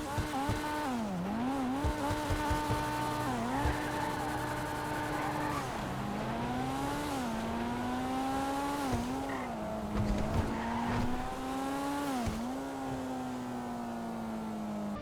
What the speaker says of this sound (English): So let's take a listen to this thing.